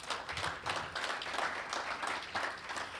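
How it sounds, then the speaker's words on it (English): Audience applause at a bipartisan panel event on protecting excellent teachers: many hands clapping in a steady, dense wash that holds level for a few seconds, with no talk over it. "Can we give them a round of applause?"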